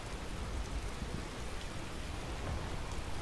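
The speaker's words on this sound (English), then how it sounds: "Hopefully this is counting me as out of the rain." Steady rain falls in the Skyrim video game, a continuous even hiss with a low rumble beneath, constant in level and with no talk.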